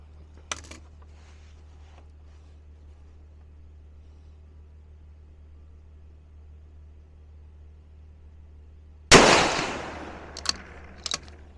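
A 6mm ARC rifle firing 105 grain Berger VLD bullets cracks loudly once near the end, the blast decaying over about a second against quiet background hum. A faint sharp snap comes early and small clicks follow the shot.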